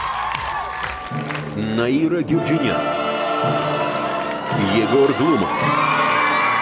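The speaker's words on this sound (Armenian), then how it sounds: "Այժմ ջերմ ծափարություններով դիմավորում ենք ջուրի անդամներին" A live audience at an X-Factor final gala claps and cheers warmly to greet the jury, with the applause rising under an announcer's amplified voice and music.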